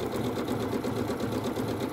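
A Janome sewing machine fitted with a circular attachment stitches steadily and continuously at close range, a dense, even mechanical whir that runs throughout without any talk.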